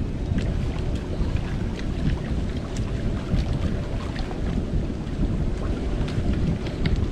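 Wind blows in a steady, rushing roar at a shoreline fishing spot, a dense broadband whoosh with faint scattered clicks and no talk over it.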